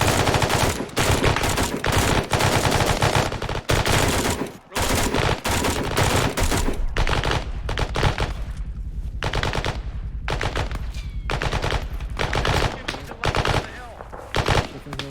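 Machine gun fire from an enemy gunner during a military position defense training exercise, rapid sustained bursts of loud close automatic shots with brief pauses, with some shouting between volleys.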